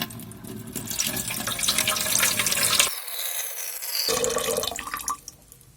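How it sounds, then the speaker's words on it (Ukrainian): Cold drinking water pours steadily from a carafe into the tank of an HM 3540 humidifier, a continuous close splashing stream that breaks off for a moment and then resumes before tailing away. "Давайте будемо це все заливати."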